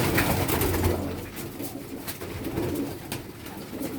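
Soft, low cooing of pigeons repeating over a constant noisy background, fairly close, with no talking.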